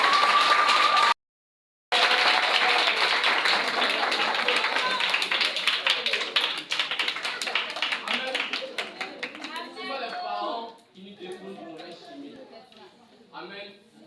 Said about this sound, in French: je vais demander à chaque enfant d'applaudir ses parents